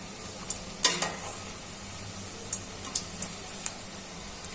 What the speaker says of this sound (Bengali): এখন একে একে কাবাবগুলো উল্টিয়ে দিচ্ছি